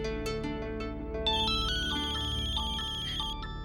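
A phone ringtone plays for an incoming call from Mohit, a steady melodic electronic tune looping loudly and close with no talking over it.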